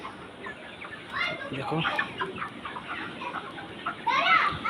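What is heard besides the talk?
chickens clucking in poultry farm shed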